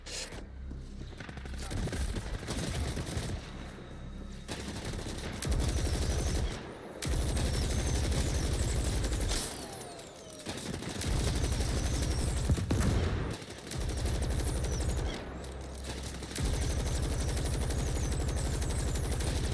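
Turret gunfire in a video game crackles in long, dense bursts that come and go, with brief lulls between volleys and a steady mechanical rattle, all fairly loud and close.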